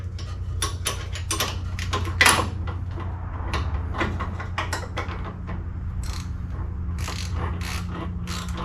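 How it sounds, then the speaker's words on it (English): A hand ratchet wrench clicks in repeated rapid bursts over a low rumble while bolts are run down during the installation of a new engine in a 1969 wagon, close and fairly loud with one sharper clank partway through. "Ratchet now."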